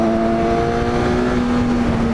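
A motorcycle being ridden at moderate speed gives a steady, loud engine drone with a sustained tone, heard up close and without any talk.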